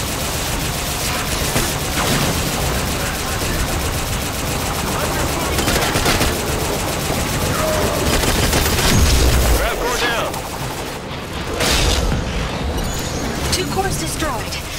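Sustained gunfire aimed at a gravitational core in Halo 5: Guardians, dense rapid bursts with heavy booms, loud and continuous, with a brief lull before firing resumes, mixed with game voices talking.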